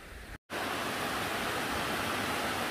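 A steady, full roar of falling water from a waterfall in a valley just below a recreational forest. It is loud and continuous and is cut by a brief dropout near the start, with no voices.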